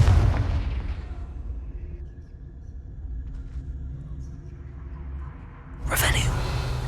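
A Confringo blasting spell explodes in a Harry Potter video game, a loud broadband burst near the end that follows a low rumbling stretch after an opening blast, with no talking.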